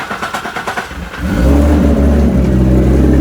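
Big-turbo Infiniti G35 engine with a 1000 HP build, starting with uneven throbbing pulses and then settling into a loud, steady, deep drone that runs close and continuous with no talking.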